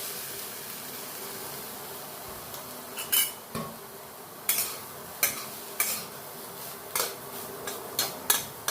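Dry scraping and stirring of grated coconut roasting in a heavy-bottomed iron wok, with repeated sharp clinks of a utensil against metal at an irregular rhythm, no voices.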